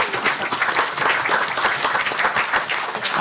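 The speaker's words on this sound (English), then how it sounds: "let's give them a round of applause." A board meeting audience applauds staff with loud, steady clapping from many hands close by, a continuous dense patter that holds at even strength throughout.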